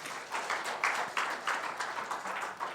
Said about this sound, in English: Please just give him a hand of applause.